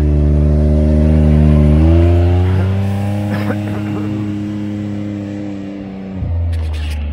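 A tuned Stage 5 Mitsubishi Evo holds a loud, steady engine drone at high revs, steps down in pitch, then surges briefly again near the end.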